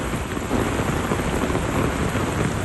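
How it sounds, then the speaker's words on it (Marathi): Heavy night-time rain pours down in Mumbai's suburbs between Andheri and Kandivali, a dense, steady, loud roar of rain on surfaces with no voices. "जोरात पाऊस असल्यामुळे समोरचं काही दिसत नाही, दृश्यमानता कमी असते।"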